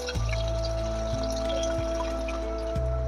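Steady water poured and running over bitter gourd while it is washed in a kitchen, a continuous close stream with a constant hum beneath and no talking.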